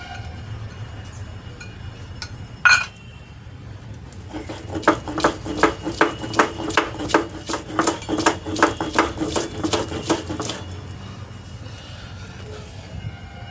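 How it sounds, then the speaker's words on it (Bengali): Rhythmic grinding of garlic by hand on a stone slab for a chicken curry with potatoes, a steady series of close scraping strokes that starts after a single sharp knock, with no talk. "এবার রসুনটা বেটে নেবো আমি"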